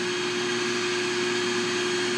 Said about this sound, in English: there's our Be Green vacuum